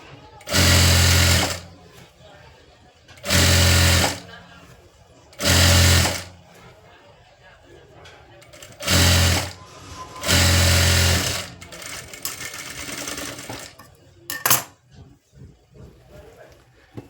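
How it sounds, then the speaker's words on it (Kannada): A sewing machine stitching a sleeve runs in five distinct loud bursts of rapid mechanical whirring, separated by short pauses with faint handling noises. "ನೆಕ್ಸ್ಟು ಮೇಲ್ಗಡೆ ಒಂದು ಸ್ಟ್ರೈಟಾಗಿ ಹೊಲಿಗೆ ಹಾಕೋರಿ ಎರಡೆರಡು ಹೊಲಿಗೆ ಹಾಕ್ರಿ"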